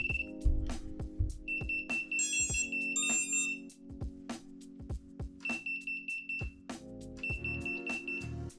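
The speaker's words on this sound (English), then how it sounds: "Let's just plug the battery in and check that the beeper is working." A 5-inch FPV drone's beeper sounds after its battery is plugged in, giving steady high tones in several sustained bursts with short breaks, up close over a low electronic hum.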